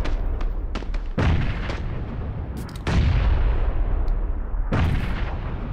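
Frag grenade explosions in the video game PUBG, a run of loud, heavy booms and blasts that follow close together and fill the whole clip with no talk over them.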